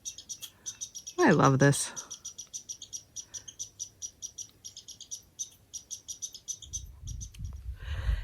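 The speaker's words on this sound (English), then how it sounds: "Do you hear that little squirrel angry that I'm here, chirping at me?" A small squirrel chirps angrily in the woods beside a pond on the Appalachian Trail, a long run of rapid, sharp repeated chirps, fairly near and steady, briefly broken by a short spoken remark.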